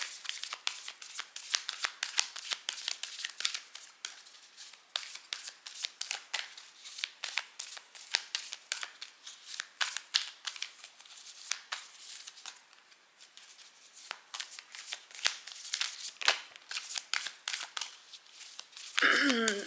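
Tarot cards being shuffled repeatedly, crisp riffling snaps in rapid bursts, close up and fairly loud, with a brief low voice sound at the very end.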